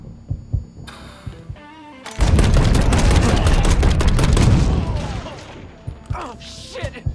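Gunfire during a shootout in the video game Mafia 3, with a few thumping shots, then a dense, loud burst of rapid automatic fire lasting a few seconds over a low rumbling game soundtrack.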